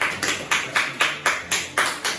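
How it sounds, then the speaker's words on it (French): Audience clapping in unison for a guest named Mufasa at a French talk show, a regular, rhythmic beat of sharp claps at about four per second, loud and close with no talk over it. "On applaudit Mufasa, on applaudit"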